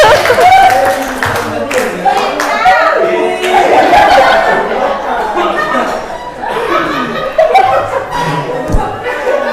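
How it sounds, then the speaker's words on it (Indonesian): An audience breaks into sustained applause, with chuckles, laughter and chatter mixed into the steady clapping for most of the stretch. "berikan aplaus luar biasa"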